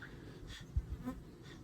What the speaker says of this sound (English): the wasps are just crazy